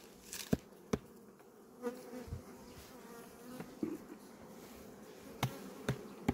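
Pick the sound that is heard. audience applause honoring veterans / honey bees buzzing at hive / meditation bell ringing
honey bees buzzing at hive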